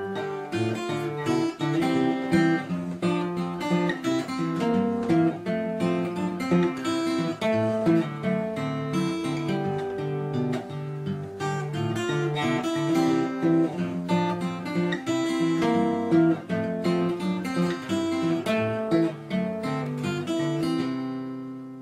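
Ragtime blues guitar picks out a simple melody with one finger, a steady stream of plucked notes ringing out clearly and alone for over twenty seconds.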